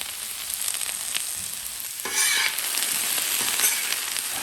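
Vegetables and onions seasoned with salt, pepper and garlic sizzle on a Blackstone griddle, a steady close frying hiss that surges brighter midway as the food is stirred and worked around.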